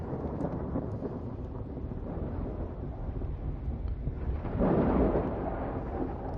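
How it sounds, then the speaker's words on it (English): Thunder rolls through a video-game thunderstorm as a deep, continuous rumble, swelling into a louder crack-like surge toward the end amid steady wind-like noise. "I know we got a thunderstorm."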